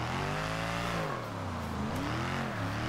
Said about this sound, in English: Engine sounds unbelievable.